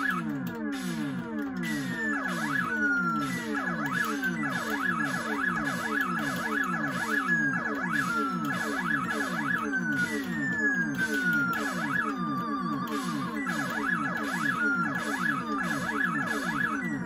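Galaxian arcade game sounds from a 2019 Arcade1Up Pac-Man Partycade cabinet: steady looping warbling swoops and descending laser-like tones, continuous and fairly quiet, with no talking.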